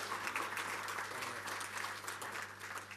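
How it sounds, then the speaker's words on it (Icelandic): Sustained applause from a meeting hall audience welcoming new member organisations at the 2013 annual general meeting of ÖBÍ, the Icelandic disability alliance. Steady, even clapping fills the whole stretch without a break. "Þá er rétt að klappa fyrir nýjum félögum"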